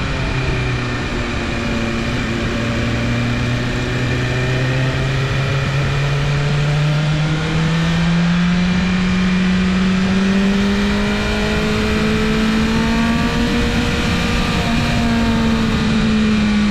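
A motorcycle engine runs steadily and close by throughout a beginner riding lesson on countersteering, its tone rising and falling slightly as the rider pushes the bars and leans through turns in fading evening light.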